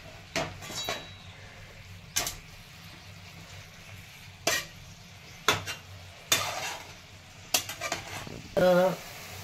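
Dill greens being sautéed with garlic in oil in a pan, with a soft sizzle under repeated sharp clinks and scrapes of a spoon stirring against the metal pan, near and intermittent.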